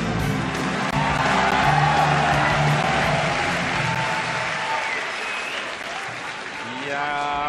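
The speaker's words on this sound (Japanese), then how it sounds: "ファンの歓声も最高潮に達しました" Fans at a flyweight title-holder's non-title boxing bout in Japan cheer and applaud loudly as a dense, continuous crowd roar that swells and stays steady, with an announcer's voice over it and music rising near the end.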